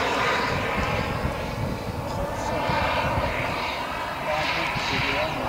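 A radio-controlled Sukhoi 27 model jet's engine roars steadily in flight, a continuous loud whine that swells and eases slightly as the aircraft turns, with people talking over it.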